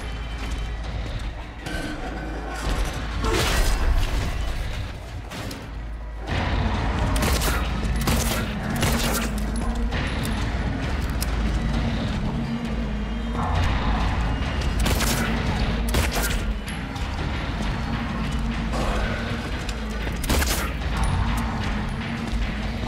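Dense, rolling gunfire and heavy booms from a combat fight in the Silent Hill 2 Remake horror game fill a long stretch at high volume, with few pauses between the volleys.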